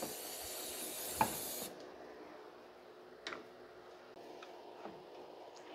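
A long, loud hiss of aerosol cleaner sprayed into the throttle body of a 2006 Mazda 3 2.3 for over a second, followed by a few brief, quieter spurts against a faint background hum.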